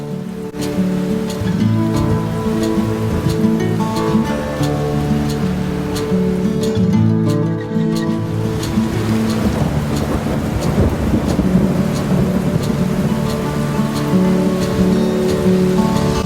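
Heavy monsoon-style rain pours in a dense, constant roar at a dam near Massanjore, with a low rumble beneath it throughout.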